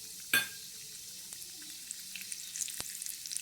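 Oil sizzles and crackles softly with small popping spits, after a sharp clatter as mustard seeds, urad dal and chana dal are dropped into the pan; the frying grows busier toward the end.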